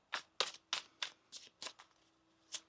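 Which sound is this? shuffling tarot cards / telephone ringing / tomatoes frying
shuffling tarot cards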